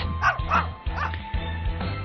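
Dog barking in the Animal Shelter Escape video game: four or five quick, yippy barks in a rhythmic run, close and clear over a low game backdrop.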